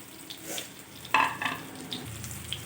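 Mung dal and cauliflower curry gets stirred in a pot after water is added, giving a wet bubbling sizzle with a few sharper scraping stirs near the middle, close and fairly quiet, no voices.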